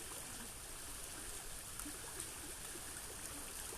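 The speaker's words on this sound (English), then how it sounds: "It's going over some roots there, so you got a little bit of turbulence, so it's just a nice gentle splash every now and again" A small stream flowing over tree roots on a rainy walk, a steady close wash of running water with gentle intermittent splashes from the turbulence, heard alone.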